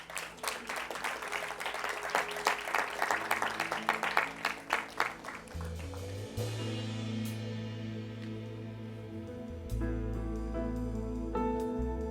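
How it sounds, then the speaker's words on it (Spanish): A church congregation applauding during a service, rhythmic clapping for several seconds that gives way to sustained keyboard or organ chords. "vamos a darle un aplauso a la palabra de Dios"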